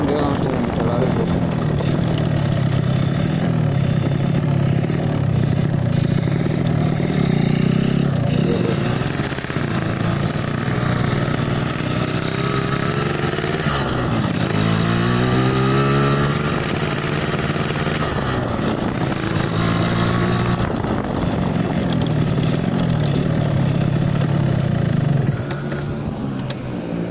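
Motorcycle engine with an oversized carburetor pilot jet idling and revving steadily, loud and close, with rising and falling pitch sweeps as the throttle is blipped mid-clip before it settles.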